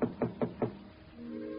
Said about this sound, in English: I went up dim, dusty stairs to apartment 211 and I tapped on the door.